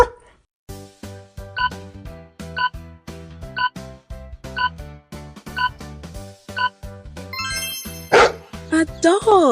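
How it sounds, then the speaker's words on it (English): A dog barks as part of a children's animal-sound guessing game, repeated in a steady rhythm alongside tonal musical notes and bright jingles near the end. "A dog!"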